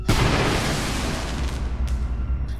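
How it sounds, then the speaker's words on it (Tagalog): A car explodes with a loud burst at the start, followed by a long, rumbling roar that slowly fades with crackling debris. "Maya-maya lang ay sumabog na nga ito"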